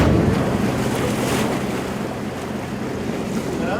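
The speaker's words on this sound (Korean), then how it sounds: "파도가 심상치 않습니다" Rough seas off Dokdo crash and surge around a boat, with heavy waves breaking loud and close under gusting wind buffeting the microphone, the roar strongest at first and then settling into a continuous churn.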